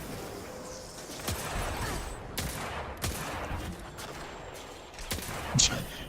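Hand cannon gunfire in Destiny 2: five or six sharp, loud shots spaced about a second apart, each a hard crack with a short ring-out over a steady background hum of game ambience.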